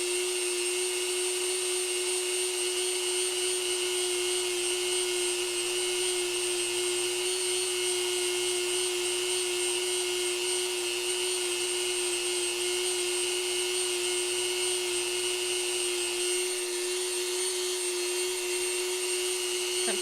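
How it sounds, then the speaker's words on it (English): A Dremel rotary tool keeps spinning at steady speed, close and loud, its shrill motor whine constant, with a slight shift in load near the end and no talking. "just listening to the sound of a Dremel"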